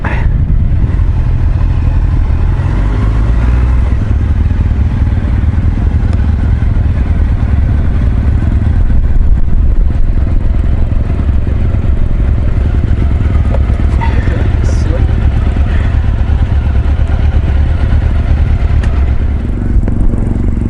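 A motorcycle runs at a low, steady idle during one-handed slow turns on a cone course, giving a loud, constant near rumble with light clatter throughout.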